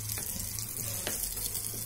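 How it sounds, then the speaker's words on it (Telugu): Tempering spices with red chili powder and turmeric fry in hot oil for a sorakaya uttapam chutney, giving a soft continuous sizzle with a few faint stirring clicks, heard close and quiet. "చూడండి పోపు అయితే వేగుతుంది."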